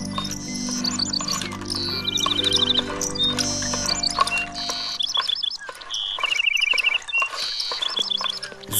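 A small brown bird sings a melody of quick, high repeated trills and whistled phrases, fairly close, over a low steady hum and other background sounds.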